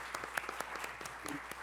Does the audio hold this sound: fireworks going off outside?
no